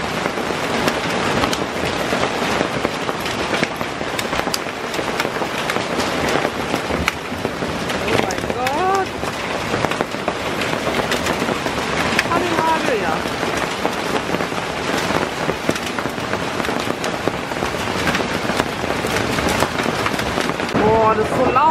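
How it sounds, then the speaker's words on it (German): Hailstones pound a roof during a thunderstorm: a dense, steady, loud drumming that continues for the whole stretch, with faint voices speaking underneath. "Die werden immer größer, die Hagelkörner."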